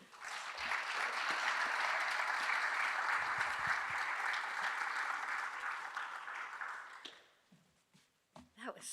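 An audience at a community awards event bursts into sustained applause, a loud dense wash of clapping holding steady for about seven seconds before tapering off into a few scattered claps and near quiet.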